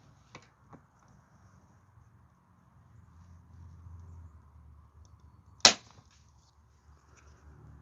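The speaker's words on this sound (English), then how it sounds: "All right, third trigger pull." A single sharp click as the trigger of a Crosman 760 or Daisy 35 air gun releases against a pull gauge, a brief near snap in an otherwise quiet room with faint handling taps earlier.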